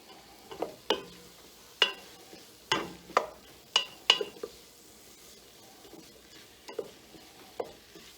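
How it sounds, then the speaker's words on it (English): Garlic and spices sizzle softly in a hot pan while a utensil scrapes and taps the pan in irregular strokes, close by and fairly quiet. "We're going to add the garlic and the spices, and we're just going to give that a stir for about a minute"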